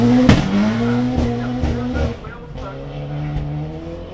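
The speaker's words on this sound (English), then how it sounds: "Had lots of wheel spin all right for Jim Tennant in the Toyota Altesa" A Toyota Altezza rally car spins its wheels at the start of a forest rally sprint, with a loud, close engine roar and tyre squeal that fades slightly as the car pulls away.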